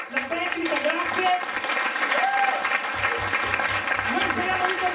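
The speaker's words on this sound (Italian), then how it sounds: "Applausi." A comedy show audience applauds warmly, sustained clapping filling the room while voices talk over it.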